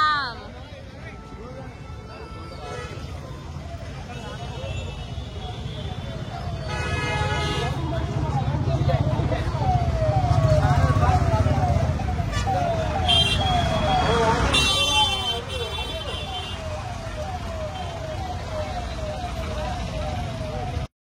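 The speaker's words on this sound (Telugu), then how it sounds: "Full traffic jam." Night traffic jam in Hyderabad after an IPL cricket match at the stadium: car horns toot repeatedly with a siren-like wail rising through the middle, over a steady rumble of engines, while people talk throughout.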